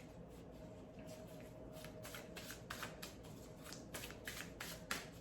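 A deck of cards is shuffled by hand during a card reading, giving a series of quick, crisp riffling bursts in an uneven rhythm. The sound is close but quiet, and no one talks over it.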